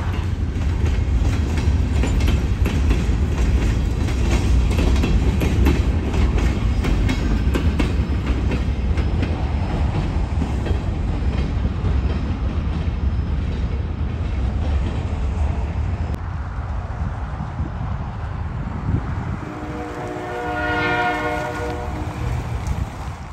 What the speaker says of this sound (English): The train's about to pass the customer YPK at a place called Narrows and go about a half a mile farther to a short runaround.